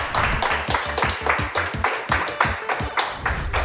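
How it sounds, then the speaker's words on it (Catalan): Audience at a Catalan game show clapping in a steady, rhythmic applause, roughly a dozen even beats in under four seconds, close and loud with no talk over it. "Aplaudiment per la Jèssica!"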